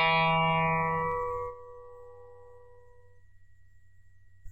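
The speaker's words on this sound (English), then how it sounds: "if you gently pluck the first guitar on string number 3" A single guitar string, the third, is gently plucked once, ringing bright and then decaying smoothly over about three seconds into near silence.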